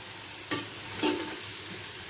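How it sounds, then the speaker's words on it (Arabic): Spices sauté in a pan while a spoon stirs through them, giving a steady soft sizzle with two brief scraping swishes, close and alone. "كده انا شوحتها اهو بما فيه الكفايه والتوابل"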